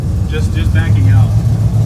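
LS V8-swapped Scion FR-S idling low and steady while backing out, a deep, constant engine drone close by, with a person talking over it.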